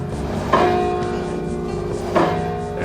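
A bell at San Gabriel Mission is struck twice, a few seconds apart, each a clear metallic clang with a long ringing decay over a steady background hum.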